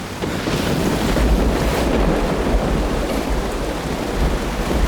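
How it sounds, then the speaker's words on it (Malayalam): Steady, heavy rain roars without pause, a dense wash of noise with deep rumbling underneath, and no one speaking. "നല്ല മഴ."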